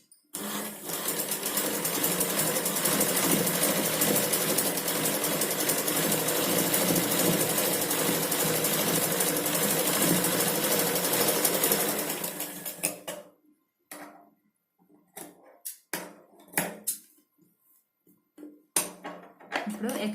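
Sewing machine stitching a blouse, a loud rapid whirring that runs steadily for about twelve seconds, then stops and gives way to scattered clicks and handling noises.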